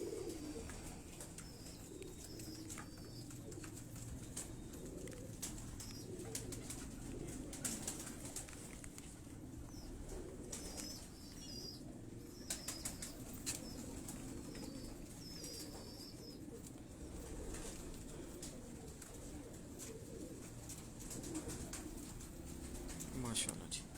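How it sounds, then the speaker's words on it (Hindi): Pigeons on a Lahore rooftop coo softly and steadily with occasional bursts of wing flapping, while someone speaks in the foreground over them. "ये आप कबूतर देखिए जी।"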